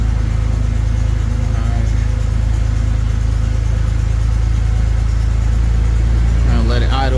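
A 1996 Ford F150 with the 4.9 engine idles close by with a steady, deep, even rumble; a voice briefly speaks near the end.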